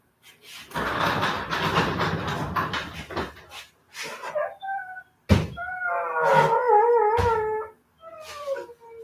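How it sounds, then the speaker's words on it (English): Dogs whining at home, a noisy clattering stretch giving way to several drawn-out, wavering whines and howls in short bursts, fairly close and loud. "I hear the dogs whining."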